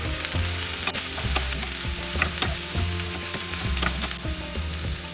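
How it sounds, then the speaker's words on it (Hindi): Bell pepper (capsicum) pieces fry in a pan over a medium flame for paneer bhurji, giving a steady loud sizzle with repeated clinks and scrapes of a stirring spoon throughout. "शिमला मिर्च भी हमें 2-3 मिनट ही फ्राई करना है।"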